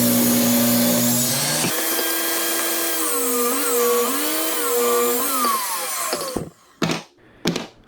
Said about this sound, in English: then I ripped the 2x4 in half so I would have 4 equal apron pieces.